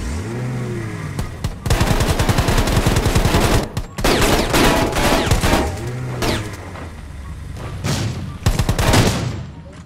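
Rapid bursts of automatic gunfire from the video game Rules of Survival, loud and sustained with short pauses, mixed with engine revving and clatter.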